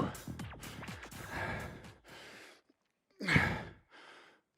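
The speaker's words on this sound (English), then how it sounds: "2 seconds of just me breathing" Heavy, gasping breaths after exertion in a gym circuits workout class, several loud, ragged exhales and inhales separated by short pauses, heard up close with no speech.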